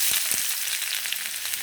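Coconut oil sizzling in a pan, heated for tempering a squid dish, a steady close crackling hiss with a few soft pops throughout.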